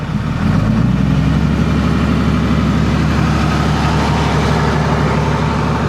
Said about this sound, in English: I pump up, I turn on the tractor a little more.